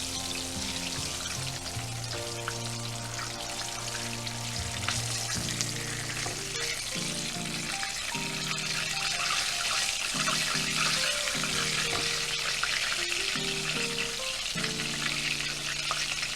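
Cubed steak for a mushroom-sauce dish fries in a pan as a second batch, giving a loud, continuous sizzle and crackle with occasional clinks and scraping of a utensil in the pan.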